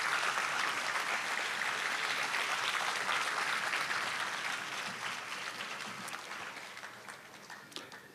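An audience claps to welcome a singer onstage, a dense, steady applause from a crowd that holds for several seconds and then gradually thins and fades.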